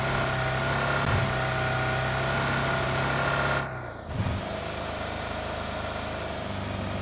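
A Dacia car engine idles while running hot, giving a steady, close, droning hum with a brief dip partway through before the even idle resumes.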